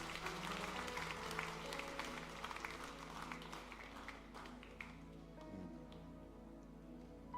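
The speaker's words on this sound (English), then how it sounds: "Why don't we give another clap offering to the Lord this morning?" A church congregation at a combined service gives a clap offering, with quiet, dense clapping from many people running steadily over sustained musical tones in the background.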